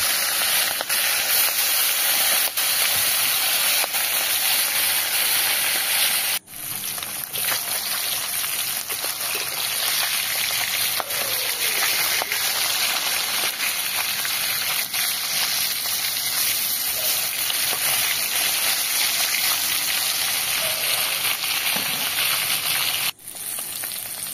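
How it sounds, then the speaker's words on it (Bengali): Fish frying in hot oil in a pan on a home clay stove: a steady, loud hiss and sizzle running throughout, with two brief dips, and no talking. "তেলটা গরম হয়ে গেছে, এবার এক এক করে মাছগুলো তেলের ওপরে দিয়ে দেব।"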